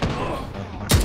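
Heavy gunfire in the shooter The Division 2, with a steady wash of distant shots and then a sharp, loud close burst at the end.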